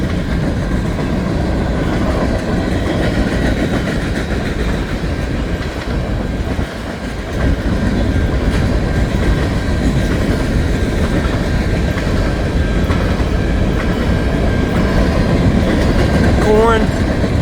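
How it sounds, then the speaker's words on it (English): A BNSF unit train, likely hauling grain such as corn or soybeans, rolls steadily past in Columbus, Montana, its continuous loud rumble and wheel clatter filling the whole stretch without letup. "Not a giant train, a unit train,"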